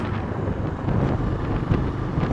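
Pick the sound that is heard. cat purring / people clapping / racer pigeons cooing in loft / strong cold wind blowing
strong cold wind blowing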